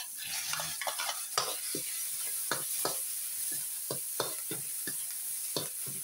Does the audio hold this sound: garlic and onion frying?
yes